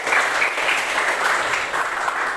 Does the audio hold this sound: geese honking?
no